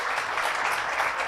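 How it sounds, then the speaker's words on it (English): Audience applause for presenters at a pipeline safety conference, dense steady clapping at moderate level, brief and unbroken. "let's give a round of applause to the presenters"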